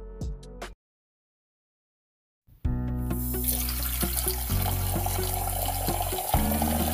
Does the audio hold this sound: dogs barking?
no